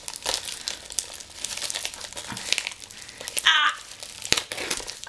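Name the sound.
opening an envelope, paper crinkling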